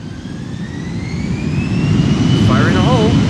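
A jet airliner takes off from runway 36L, the Polderbaan at Amsterdam Schiphol. Its engine roar is loud and close and swells steadily, with a higher whine drifting above it and a brief warbling tone near the end.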